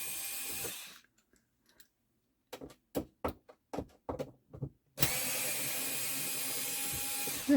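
Electric screwdriver driving a screw: a whirring motor run cuts off, then a string of short tool bursts and clicks, before the motor whirs again in a long continuous run, all close and clear.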